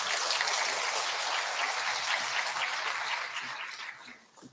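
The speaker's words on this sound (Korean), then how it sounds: "힘찬 박수로 환영해 주시기 부탁드립니다" Church congregation applauding to welcome newly introduced members at a Bible lecture meeting, a dense, sustained wash of clapping that fades toward the end.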